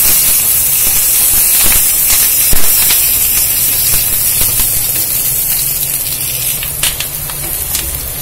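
Steady loud sizzling and hissing of onions frying in hot oil, continuous throughout with faint crackles.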